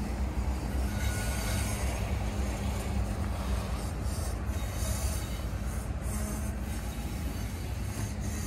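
A coal train on the RJ Corman West Virginia line rolls past close by, a continuous loud roar of wheels with high squealing and rumbling throughout.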